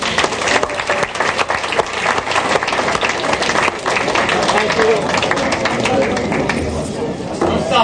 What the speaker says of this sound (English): Don't stop the applause just because I came up there.